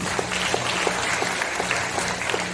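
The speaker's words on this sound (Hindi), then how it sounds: "वेरी गुड, तालियां पहले तो आप सभी" A crowd at a sales training session breaks into steady, dense applause that fills the room, many hands clapping together close by with no one speaking over it.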